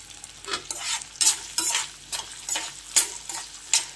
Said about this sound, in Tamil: அது கூடவே ஒரே ஒரு பெரிய வெங்காயம் சேர்த்து வதக்கிக்கலாம்